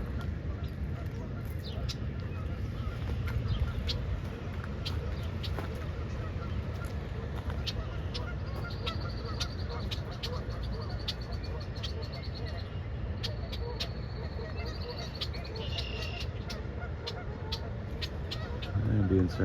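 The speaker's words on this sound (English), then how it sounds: "And being surrounded by birds." Geese and other waterfowl honking around a pond at Dufferin Islands, repeated calls near and far over steady outdoor background, with a person talking at times.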